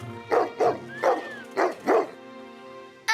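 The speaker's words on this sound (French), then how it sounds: "Un chien." A cartoon dog barks five times in quick, evenly spaced bursts, loud and close, with a faint whistling glide between barks and quiet after.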